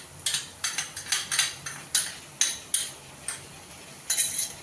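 A utensil clanks and scrapes in a pan while stirring chicken with ginger-garlic paste: about a dozen sharp metallic strokes in an uneven rhythm, close and distinct, with no talking.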